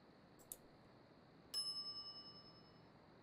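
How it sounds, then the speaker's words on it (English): A shop counter bell in the Monkey Island video game gives a single bright ding that rings on and fades over about a second and a half. Faint ticks come before it against a quiet background. "some idiot's already ringing that stupid bell"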